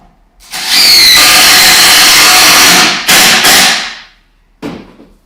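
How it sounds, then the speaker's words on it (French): A power screwdriver drives a long screw into a log wall with a loud, close whine lasting a few seconds, followed by two quick bursts and a short final spin. "j'ai vissé l'extérieur, je vais visser l'intérieur"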